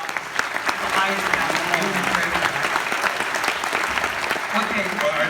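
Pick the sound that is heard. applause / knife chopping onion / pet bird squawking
applause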